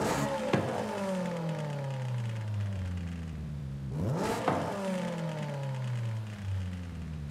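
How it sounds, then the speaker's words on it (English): A Forza Horizon 5 car fitted with race exhaust revs twice, each blip jumping high and falling away slowly to idle with slight pops, loud and close, with no voices. "And now the race exhaust."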